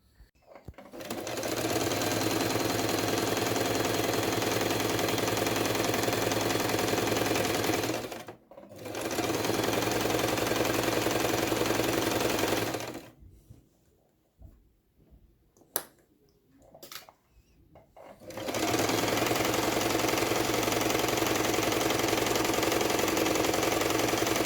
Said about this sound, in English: I've sewn around the edge, 1/4 of an inch in